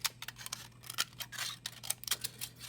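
Scissors trim a paper rainbow fish craft in a run of quick, faint snips and crisp cuts, close and uneven in rhythm, with no talk.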